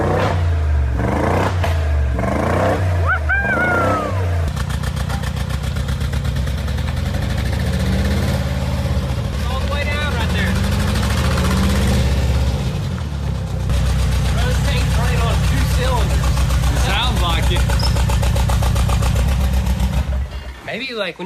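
A rebuilt, previously wrecked 2022 Mercedes G63 G Wagon V8 runs close by, idling roughly with repeated throttle blips and revs that rise and fall, while people talk over it.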